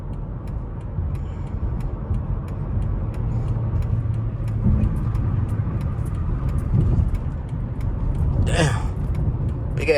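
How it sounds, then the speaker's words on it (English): A low, heavy rumble of a semi truck passing on an expressway, swelling and fading over several seconds, with road noise throughout and a brief sharp sound near the end. "Big ass semi truck."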